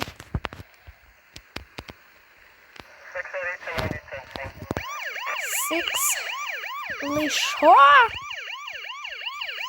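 A video game police siren wails, cycling up and down repeatedly, loud and close, joined by a second siren tone, with short speech and clicks before it starts.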